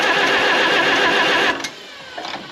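A car engine cranking with the choke pulled out in cold winter weather, churning loud and close for about a second and a half before it drops away, followed by a few faint clicks.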